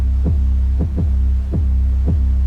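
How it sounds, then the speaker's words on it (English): Deep bass thumps in a K-pop style beat repeat in an uneven groove over a steady low drone, a snappy bass's short punchy attack layered with a long sustained bass tone. "Both the snappy bass and the long bass are playing together"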